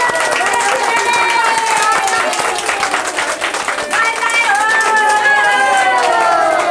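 An audience at a Krishna bhajan claps to welcome a guest, giving sustained, loud, dense applause that runs throughout, mixed with voices.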